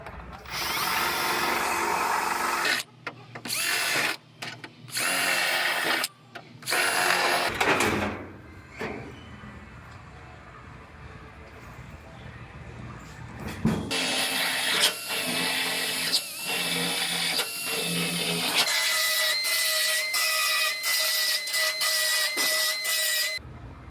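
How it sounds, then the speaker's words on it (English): A power drill whines in loud bursts, stopping and starting, then runs steadily as it bores through a metal floor panel, with a rattling pause in between. "I'm just going to drill through this first layer of the new floor now"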